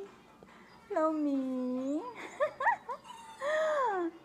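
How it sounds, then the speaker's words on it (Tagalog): A pet dog whimpers and whines in long, high, wavering cries, then a few short broken yelps and another drawn-out whine, close to the listener on a cold spring day. "Ayan, yung alaga akong aso."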